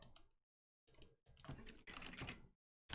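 Quick clattering keystrokes on a computer keyboard come in short bursts separated by pauses, close and fairly quiet, with no talk.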